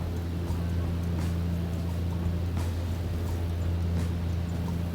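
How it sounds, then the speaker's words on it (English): Loud, steady drone of a BN-2 Islander's piston engine heard from inside the cabin in flight during Caribbean island-hopping, a constant low hum with broad noise that holds unbroken throughout. "Pretty loud engine sound here."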